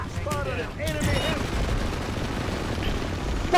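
In the online shooter PlanetSide 2, a heavy barrage of rapid gunfire and explosions rumbles continuously at a base defense, with players' voices talking over the battle noise.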